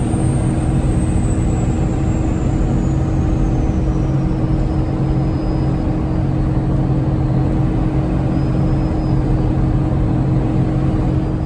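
Cummins-powered truck cruising in fifth gear at about 60 mph, a steady loud engine drone with road rumble held constant throughout, no voices.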